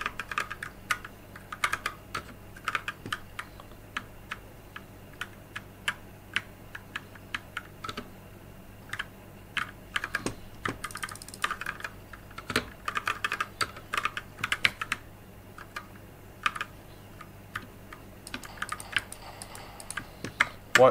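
Someone types on a Kraken Pro 60% gaming keyboard, a close, crisp run of key clicks in irregular bursts with short pauses, alone over a faint steady hum.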